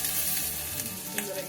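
Garlic sizzles steadily in hot oil with fenugreek seeds, a dense close crackle with a faint stir scrape.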